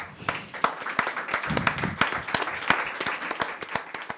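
An audience at a Spanish literary talk gives a brief round of applause, with distinct, fairly close hand claps in an uneven rhythm that swell and then thin out, with no talk over them.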